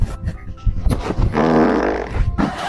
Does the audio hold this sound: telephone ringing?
no